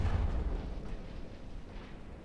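Deep, rumbling boom of naval gunfire and shell explosions in a battleship game, a continuous low roar that slowly fades with no talking.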